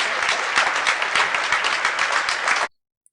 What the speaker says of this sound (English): And folks out there clapping.